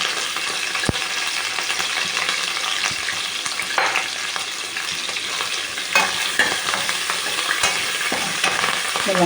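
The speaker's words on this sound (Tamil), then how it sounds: "இந்த வெங்காயம் வதக்கிக்கலாம்." Small onions and curry leaves fry in a pan for a Karaikal-style urundai kulambu, giving a continuous loud sizzle with scattered stirring scrapes and clinks throughout, no speech.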